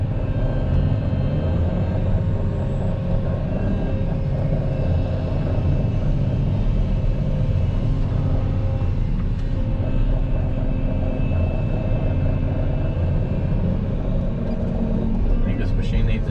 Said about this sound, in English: I think this machine needs a new blower fan. That's what's making all that rattling noise.